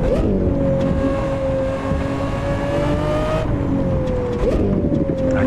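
Lamborghini Aventador SVJ engine in a racing video game, a loud sustained high-pitched wail that rises in pitch, drops with a gear shift around the middle, then climbs again.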